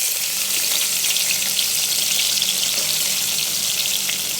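Sliced onions fry in hot oil in a pan for a curry paste, a bright, steady sizzle that holds evenly close by with no talking over it.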